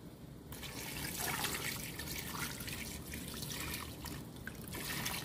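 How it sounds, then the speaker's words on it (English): Water pours steadily into a pot of beef pochero with onions and beef, a continuous close splashing trickle without a break. "And then cover it with water."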